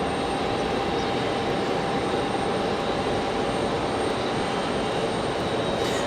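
A Breeze Airways Airbus A220 departs Raleigh-Durham International bound for Fort Myers, its engines a loud, steady broadband roar that holds unchanged throughout with no voices.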